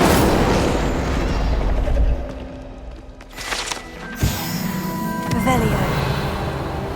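In Hogwarts Legacy, an Incendio fire spell goes off with a loud roaring whoosh and boom, then fades into crackling bursts and shimmering magical tones.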